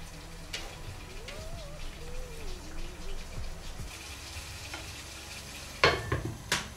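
Chopped onion frying in a pan, a soft, steady sizzle with occasional stirring scrapes and a couple of sharper clatters near the end, fairly quiet with no talking.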